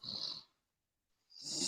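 A man snores in two slow, faint breaths, a raspy inhale-exhale, then near-silence, then another rising snore.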